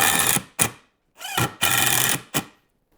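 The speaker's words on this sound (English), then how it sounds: "because it's loud using these impact drivers, put on some hearing protection" Cordless impact driver driving screws into boards while building a double-stacked implement storage rack, heard as several loud, close bursts of rattling hammering whir, each lasting under a second, separated by short silences.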